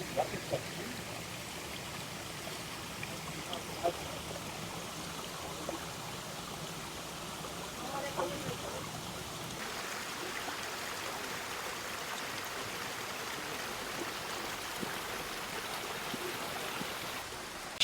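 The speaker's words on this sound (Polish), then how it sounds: "Strumyczek sobie płynie dalej." A small stream flows steadily over stones beside a garden path at a Thai temple, a soft continuous trickle and gurgle throughout, close by with faint background ambience.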